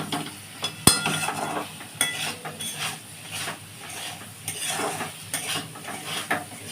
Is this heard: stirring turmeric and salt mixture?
yes